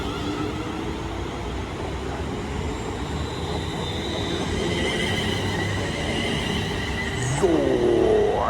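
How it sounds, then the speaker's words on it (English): A West Midlands Railway class 350 electric train pulls into a suburban station on the Walsall line, with a steady rumble building and a brief rising wheel squeal near the end, heard close by. "Here's the train. We'll take it to Tame Parkway."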